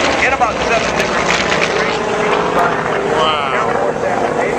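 A Boeing B-17 four-engine World War II bomber passes overhead at an air show, its steady droning propeller roar filling the air while an announcer talks over it.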